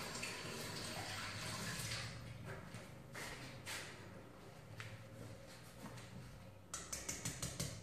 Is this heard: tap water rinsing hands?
yes